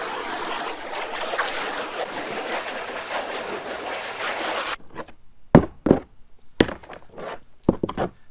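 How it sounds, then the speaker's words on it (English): A garden hose sprays rubber car floor mats, a steady hissing rush of water for about five seconds that cuts off abruptly, followed by several sharp knocking thuds from the mats being handled. "I'm just going to take my water hose,"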